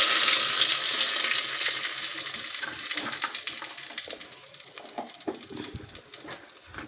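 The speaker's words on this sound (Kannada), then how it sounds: "ಅದಕ್ಕೆ ನಾನು ಸಾಸಿವೆ ಜೀರಿಗೆ ಹಾಕ್ಕೊಂಡೆ. ಅದು ಚಟ ಚಟ ಅಂತ ಇದೆ" Mustard seeds and cumin crackle and spatter in hot oil, a dense, close sizzle with scattered pops that gradually thins out over several seconds.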